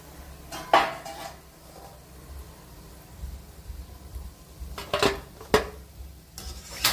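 Fried vettu cakes being lifted out of hot oil, with a few sharp metal clinks of a utensil against a pot or pan over a faint background hiss.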